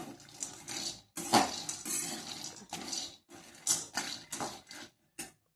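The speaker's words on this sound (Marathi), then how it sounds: "शेंगदाणा भाजून घेते मी आता." Peanuts are dry-roasted and stirred in a pan in a home kitchen. Close, dry rattling and scraping comes in short, irregular bursts separated by brief pauses.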